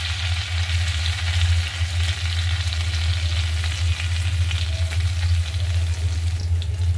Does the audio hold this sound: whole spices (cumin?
yes